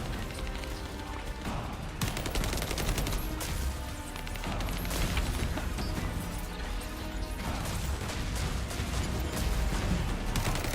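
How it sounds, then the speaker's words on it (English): An assault turret firing in The First Descendant, loud dense rapid gunfire with crashing impacts that runs without a break across the whole stretch, layered with game effects and no talk. "Summoning assault turret."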